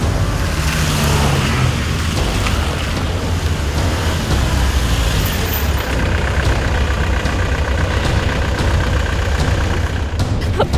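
A car engine runs steadily as the vehicle drives ahead, a loud continuous low rumble with traffic-like noise throughout, no clear speech over it.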